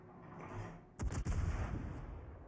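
Naval guns firing in World of Warships, a sharp blast followed by a second report, then a rumbling roll that decays over about a second.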